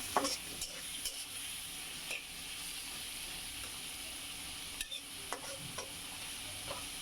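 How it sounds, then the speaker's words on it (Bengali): Prawns lightly frying in a pan give a steady, quiet sizzle with a few soft stirring scrapes and taps spread through the clip, and no one speaks. "চিংড়ি মাছটা একটু হালকা করে ভেজে তারপর মশলা দিব।"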